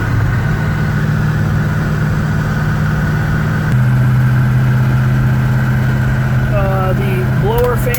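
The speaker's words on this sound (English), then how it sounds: "I'll pause this and let the car warm up." A black 1967 Pontiac GTO V8 idling steadily as it warms up, a close, loud, even low drone that steps down slightly in tone midway, with faint squeaky noises near the end.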